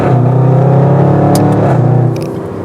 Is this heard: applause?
no